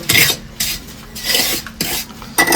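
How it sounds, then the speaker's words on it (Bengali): A trowel spreads plaster inside a kitchen drain's main manhole chamber in repeated rough scraping strokes, loud and close, with short pauses between the sweeps. "এখন প্লাস্টার করছে।"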